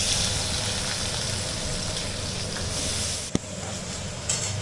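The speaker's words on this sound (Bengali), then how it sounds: "এবার পনিরগুলোকে একটু সামান্য করে ভেজে নেবো।" Paneer pieces fry in a pan with a steady, close hiss and sizzle, broken by one sharp click near the end.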